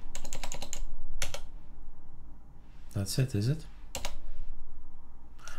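Rapid bursts of typing on a computer keyboard, clustered clicking keystrokes with short pauses between runs, close by, while someone speaks briefly.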